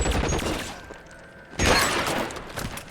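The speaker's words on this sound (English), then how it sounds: "See that? That's 1 shotgun shot." A single sharp shotgun blast goes off in the LA Noire video game, a sudden loud burst midway through with a crackling, shattering tail.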